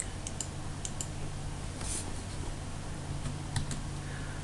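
Quiet keystrokes on a computer keyboard while a drawing command is entered in AutoCAD, with scattered clicks and taps over a steady low room hum and no talking.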